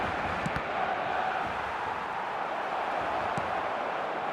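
Stadium crowd noise from an eFootball match, a steady broad roar of many voices swelling evenly throughout with a couple of faint brief accents, no distinct talk.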